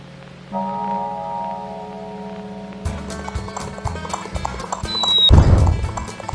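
Galloping horse hooves in a video game, a steady rhythmic clip-clop set against game music, with a brief whinny near the end.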